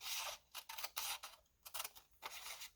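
Scissors snip through a paper tag in several short, close cuts, crisp bursts separated by brief pauses.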